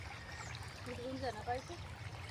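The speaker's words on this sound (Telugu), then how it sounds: "మా బోర్ అయితే ఇట్లా పోస్తుంది ఫ్రెండ్స్." Borewell water pours about an inch and a half deep into a chickpea field, a steady trickling stream heard close up while a person talks over it.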